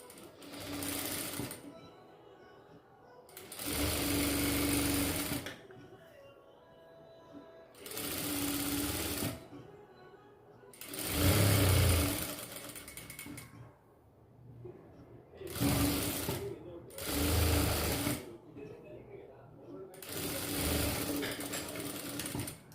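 A sewing machine stitches the lining of a miniature dress in repeated loud, close runs of a few seconds each, broken by brief quiet pauses between bursts.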